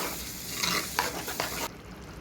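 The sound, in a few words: stirring tomato paste into fish curry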